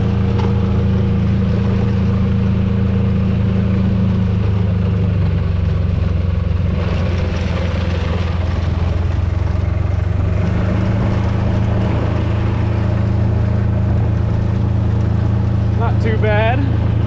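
A Kubota diesel engine swapped into a golf cart runs at wide open throttle with a noisy clutch, making a loud, steady low drone with a slight rise in pitch midway.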